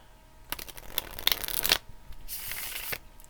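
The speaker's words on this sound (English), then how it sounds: "So let's shuffle a little bit." A deck of tarot cards is shuffled close by in a few rustling, riffling bursts separated by short pauses, with no talking.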